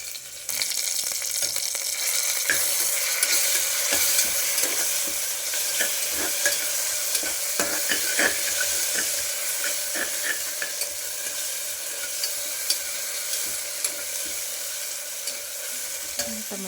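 Ginger garlic paste fries in a hot pan for a tomato bath, with a steady close sizzle throughout. A spoon scrapes and clicks irregularly as the paste is stirred, and there is no talking.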